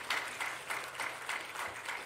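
Applause from a church congregation during a Sunday service, clapping in a steady patter with soft swells, moderately distant and fairly quiet.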